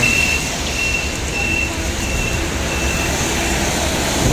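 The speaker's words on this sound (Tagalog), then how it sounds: "Dami sasakyan." Dense street traffic in Taiwan, a steady broad roar of many vehicles passing close by, with a faint high beep running through it and no talking.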